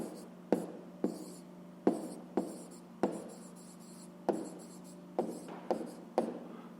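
A pen writes an answer to a fifth-grade maths exercise by hand, giving a series of sharp taps and short scratchy strokes, close and clear, with a voice murmuring faintly underneath.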